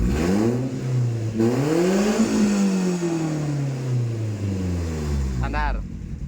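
Suzuki APV engine revving through a Valvetronik exhaust set to racing mode, loud and close, with rising and falling rev sweeps across the clip and a sharper burst near the end; a voice speaks briefly over it.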